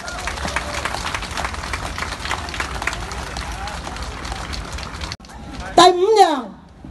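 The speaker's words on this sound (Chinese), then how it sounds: "请大家鼓掌。" A crowd at a Hong Kong political gathering breaks into sustained applause for about five seconds, dense and moderately loud, before it stops and a voice speaks.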